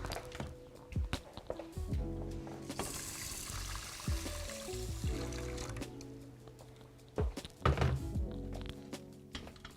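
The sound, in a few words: pouring boiling water over rice in a pot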